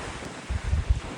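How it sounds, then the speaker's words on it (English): Waves on Lake Superior by the lighthouse grounds churn under strong wind, a brief rough roar dominated by gusting buffeting against the microphone. "Lake Superior being a little angry."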